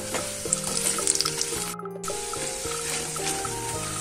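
Pakodi frying in hot oil, a steady bubbling sizzle with light crackle that runs nearly throughout, briefly cut off once midway, heard close with no talk.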